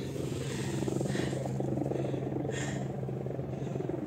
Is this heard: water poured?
no